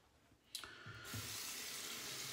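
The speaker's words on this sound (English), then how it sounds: "Let me rinse this brush out here a little bit so we can get a better look." Water runs from a bathroom tap to rinse a shaving brush, beginning as a brief splash and then settling into a steady, close hiss of flowing water with no talking.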